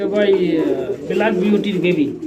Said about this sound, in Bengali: ব্ল্যাক বিউটি কবুতরের বেবি মার্শাল্লাহ বন্ধুরা দেখেন